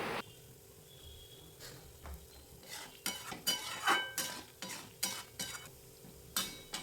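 A spoon stirs pointed gourd (potol) in a pan with mustard and peanuts, scraping and knocking against the metal in a steady series of close strokes over a soft background sizzle.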